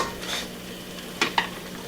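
Apple jam at a rolling boil in a pot on the stove, a soft steady bubbling hiss with two brief clinks of a spoon or lid near the end.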